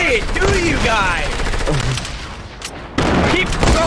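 Rapid bursts of gunfire in the video game Fortnite, loud overlapping shots and a fusillade of rounds, with a brief lull before more shooting resumes near the end.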